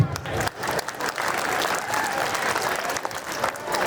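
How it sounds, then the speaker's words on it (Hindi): An audience at a school annual function claps loudly for a doctor after his speech. Dense, sustained applause from many hands fills the room, close and continuous for about four seconds. "एक बार जोरदार तालियां डॉक्टर साहब के लिए।"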